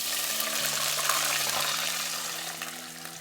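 Water gushes into a pot of fried beef biryani masala for Kerala-style biryani, a steady close rush and sizzle that slowly eases, with no voices.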